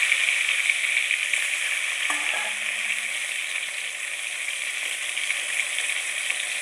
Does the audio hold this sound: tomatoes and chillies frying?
yes